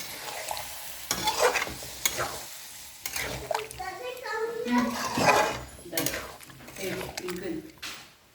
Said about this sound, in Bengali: এই দুধটা আমি শুক্তোর মধ্যে দিয়ে দেবো